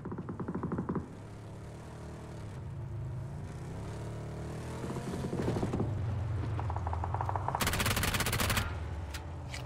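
Rapid P90 gunfire in the PUBG video game, bursts of fast automatic shots at close range mixed with mechanical rattles and clanks, with a loud sustained volley near the end.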